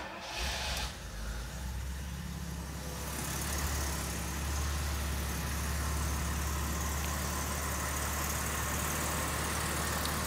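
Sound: Jaguar engine with Bosch D-Jetronic fuel injection starting and idling

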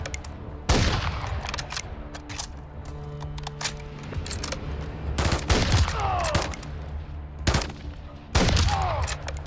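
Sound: gunfire in the video game Call of Duty: Modern Warfare III

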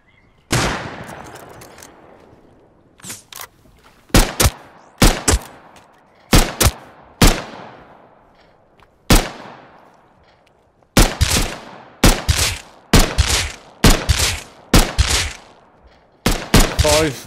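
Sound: gunfire landing headshots in the video game Rust

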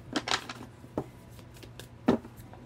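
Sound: shuffling tarot cards

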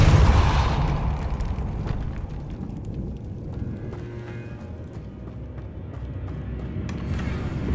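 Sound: Depulsor spell cast in Hogwarts Legacy video game

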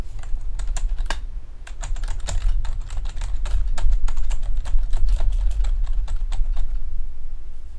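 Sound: typing on a computer keyboard

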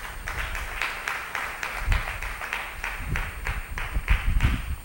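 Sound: applause

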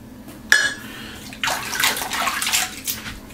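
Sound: running water from a tap

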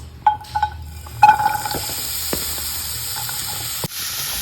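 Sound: onions frying and being stirred in a pan

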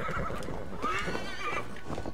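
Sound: horse neighing in video game Assassin's Creed Valhalla

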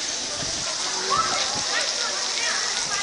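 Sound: hail falling during a storm

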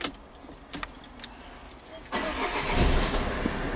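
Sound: Peugeot 308 CC 2.0 HDi engine starting

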